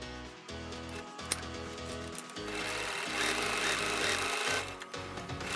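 A sewing machine stitches through folded bag webbing in a rhythmic, chugging run of needle strokes with brief pauses, fairly close and steady throughout.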